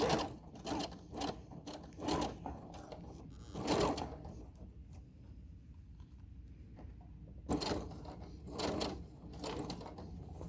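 A sewing machine back stitches binding on a little dress in short, fairly quiet bursts of rapid stitching, separated by a longer pause in the middle.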